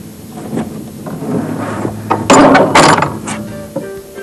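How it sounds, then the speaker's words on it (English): Animal access gate latch on a farm gate being pushed shut, a short burst of metallic clanks and ratcheting rattles with a sharp latching clack near the end, close and fairly loud. "that animal access gates close positively every time, from just a push."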